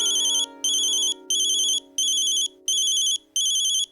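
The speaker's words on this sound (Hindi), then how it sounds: "अरे बाबा, दीदी का फोन आया है।" Phone ringtone for an incoming call, six evenly spaced bright electronic bursts in a steady on-off rhythm over a sustained lower tone, loud and close with no talking.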